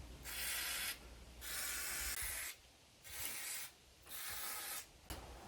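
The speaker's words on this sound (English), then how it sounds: "So I'm going to throw some WD-40 around those spark plugs." WD-40 is sprayed from an aerosol can around the rusty spark plugs of a Jeep CJ5, heard as four longer hissing bursts and a short final one, close and steady, separated by quiet gaps.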